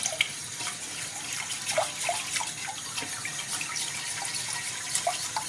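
Chicken broth being poured into a lemon sauce in a pot, a steady close liquid stream with small splashes and drips throughout, no talking.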